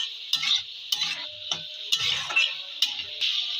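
Country chicken with turmeric and chilli powder is stir-fried in a pan, with rhythmic spoon scrapes and knocks against the pan over a soft sizzle.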